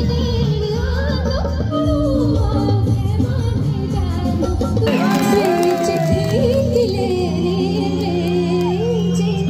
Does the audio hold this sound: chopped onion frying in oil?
no